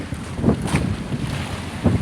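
Strong wind buffets the microphone in gusts over a rushing background of open water with big waves, out at sea on a fishing boat.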